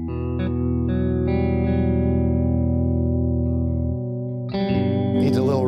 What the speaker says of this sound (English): It's almost like a rotating speaker sound.